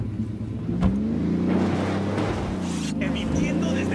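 A car driving off in the video game Ghost Recon Wildlands, its engine revving up and holding a steady rising drone, with a sharp clunk early on and a game voice talking over the engine.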